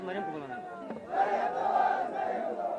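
A single voice leads a political slogan at a Pakistani rally, then a large crowd answers in a loud, sustained chant.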